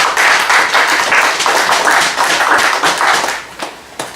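An audience applauding at an evening gathering, loud close clapping in uneven waves that thins out toward the end into a few scattered final claps.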